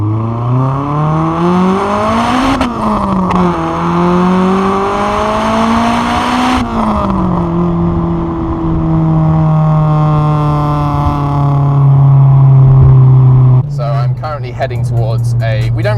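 A Honda Civic Type R EP3 with a Spoon N1 exhaust revs up and down loudly, its exhaust droning and rising in pitch, then settling into a steady roar while driving.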